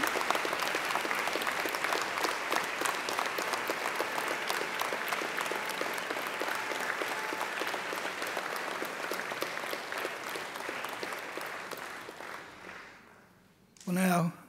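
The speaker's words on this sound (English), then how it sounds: "give them a mighty round of applause" A large crowd at a graduation ceremony applauds loudly and continuously for several seconds, then the clapping fades out and a voice begins speaking.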